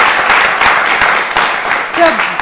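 Studio audience of young people applauding on a TV talk show set, a steady broadband patter of many hands held at an even level throughout, with faint voices murmuring underneath.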